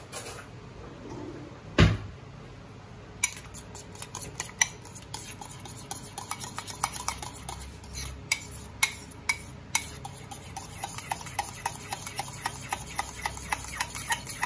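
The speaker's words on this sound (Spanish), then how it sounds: "Lo batimos." Children's cereal porridge mix being whisked in a container, a quick run of sharp ticking clicks and taps that grows denser and more regular toward the end, close and fairly loud, with no voices.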